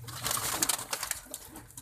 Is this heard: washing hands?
no